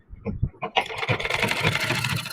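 Electric sewing machine stitching a cut neck strip onto a child's suit, a steady whirring run that starts after a few short bursts and keeps going close up without talk.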